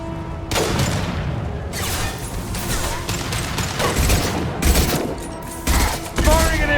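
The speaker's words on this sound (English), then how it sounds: "Firing an impact shot." Impact shot gunfire in the sci-fi shooter game Mass Effect 2, a run of loud, dense blasts and booms that keeps bursting close up, with louder hits near the end.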